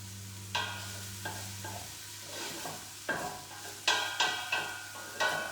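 Onions for a chilli sizzle softly in a pan while a utensil stirs and scrapes them at irregular intervals. A faint, steady fry sits under close, distinct stirring knocks, with no voices.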